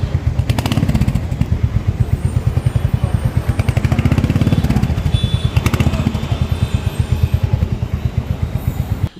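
A Royal Enfield Hunter 350 engine runs steadily close by, a loud, even single-cylinder thump with some mechanical clatter throughout and no voices.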